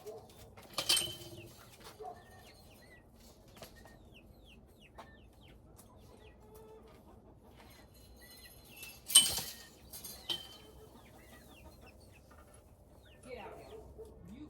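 A mean-tempered pet bird in a cage gives a few scattered clucks and squawks, with a louder burst of flapping and calls partway through over quiet background, and no one talking.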